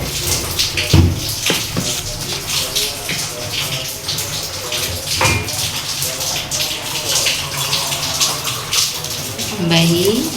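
Water splashes and pours steadily while cooking, before eggs go in; a continuous running, gurgling wash sounds close, with a person talking over it.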